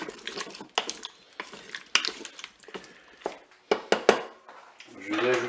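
A spoon stirs a crème fraîche and mustard mixture in a Cookeo multicooker pot, producing close scraping and clinking against the metal bowl with soft wet squishes, while someone talks over it.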